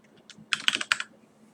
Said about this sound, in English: We'll just type in a couple of things.